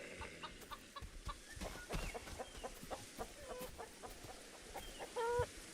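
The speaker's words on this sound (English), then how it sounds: "Freaking chicken." Chickens in a video game cluck and squawk repeatedly at moderate distance, irregular bursts over steady background noise, with a louder cluck near the end.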